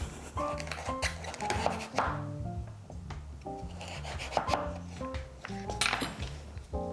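Seeds being scraped from a halved acorn squash with a metal spoon: repeated short rasping scrapes and clinks against a bowl, close and fairly busy, with no talking.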